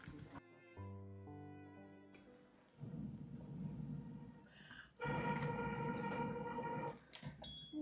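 Rain falls outdoors, a soft, steady wash of noise that swells in two louder stretches. Faint tonal sounds come through near the start, and the whole scene stays quiet and distant.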